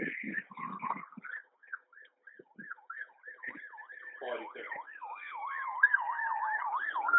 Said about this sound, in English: I hear an ambulance.